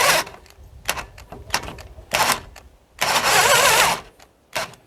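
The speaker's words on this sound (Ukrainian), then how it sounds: "Сверло 9 мм по металу проти дерев'яхи на другій швидкості." An Aurora Anton cordless drill on second speed, with a 9 mm metal bit boring into wood, whirs in short, uneven bursts separated by pauses, then holds one longer strained run near the end.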